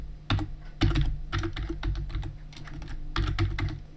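Someone types a password on a computer keyboard: close, quick clusters of light key clicks in short bursts with brief pauses between them.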